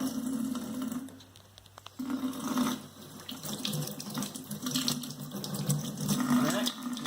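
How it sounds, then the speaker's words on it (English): Cold water runs from a faucet in a steady hiss, briefly easing then flowing strongly again, close by, with some voice activity in the background. "So let's turn on the faucet."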